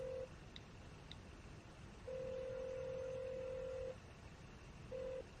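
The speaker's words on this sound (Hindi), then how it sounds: "प्लीज फोन उठाइए, फोन उठाइए ना।" A telephone call goes unanswered while the line rings: steady tone bursts sound at the start, through a long stretch in the middle, and again near the end, fairly faint over a low background hum, with no talking.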